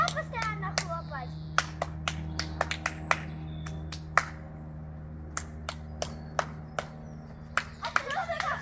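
A child claps repeatedly indoors over a constant low hum, with sharp, close claps in irregular bursts and short pauses. Brief voices come at the start and end.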